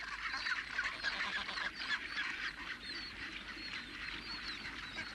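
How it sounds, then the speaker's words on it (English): A colony of rockhopper penguins on rocky Falklands slopes gives off harsh, honking, overlapping calls, a continuous distant chorus at low level. "Smallest of the Falkland penguins, noisy and quarrelsome birds"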